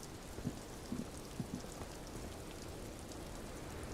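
Steady rain falls in the Disco Elysium video game, a constant soft hiss of drops with a few faint low taps early on, moderately quiet and continuous throughout.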